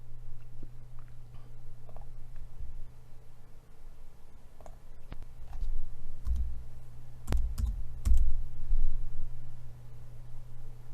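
Keys clatter on a computer keyboard in short sparse bursts of clicks, fairly close, over a steady low hum, with a few heavier taps clustered near the end.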